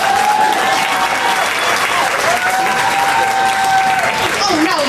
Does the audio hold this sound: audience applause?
yes